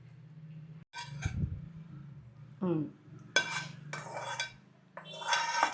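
Chopped vegetables tumble into a pan and get stirred, with brief clattering scrapes and clinks of a utensil against metal coming in short separate bursts, close and fairly quiet.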